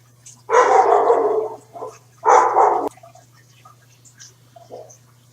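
Two loud, drawn-out dog barks close by, separated by a short pause, followed by a few faint yips against a quiet room hum.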